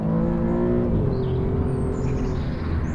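The 2.9-litre turbocharged V6 of an Alfa Romeo Giulia Quadrifoglio drones steadily, heard from inside the car, with its pitch shifting once as it pulls, moderately loud and with no talk.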